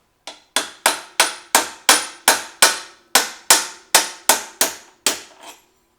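A quick, regular series of about fourteen sharp metallic hammer blows on rusty hardware from a 2002 Honda XR400 motorcycle, loud and close, each strike ringing briefly before the next.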